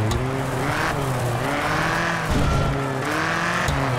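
In a World Rally Championship video game, a rally car's engine roars steadily near and loud through a handbrake hairpin turn, with a brief tire skid partway through and the revs rising and falling.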